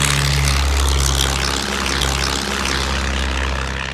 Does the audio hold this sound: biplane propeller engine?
yes